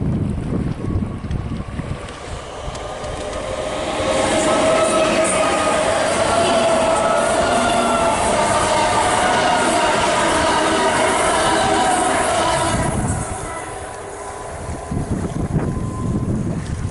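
A train rumbles past steadily along the seafront railway at Chalkwell, Leigh-on-Sea, with a broad roar that swells and then fades, wind buffeting in the background.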